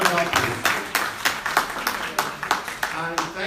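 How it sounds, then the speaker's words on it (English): An audience applauds Kate Osamor at a forum for African, Afro-Caribbean and Asian women in politics, with scattered, moderately loud claps in a steady, uneven rhythm filling the moment. "Please give her a round of applause"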